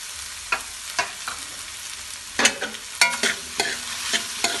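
Macaroni with chicken and peas is stirred in a frying pan, scraping spoon strokes sounding in irregular bursts over a soft steady sizzle, close and fairly loud.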